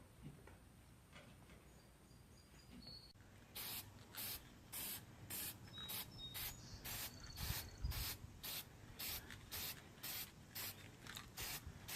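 Short, rhythmic bursts of black spray paint hiss onto wood for a rustic towel bar, about a dozen evenly spaced sprays, close and moderately loud, after a brief quieter stretch.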